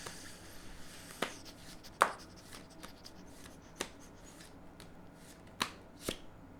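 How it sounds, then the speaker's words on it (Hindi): Tarot cards shuffled and pulled from the deck, a run of soft papery rustles punctuated by several sharp slaps and flicks, quiet and close with no talking. "मैं अभी से फोर्थ कार्ड निकालने वाला हूँ"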